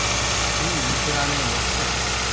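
A first-generation Toyota Vios engine idles high, giving a loud, steady mechanical drone with a faint vibration throughout.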